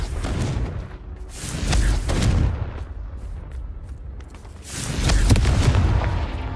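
Spell blasts from Hogwarts Legacy go off as heavy booming explosions, three or four thudding bursts in loose succession with rumbling tails, loud and close, no talking.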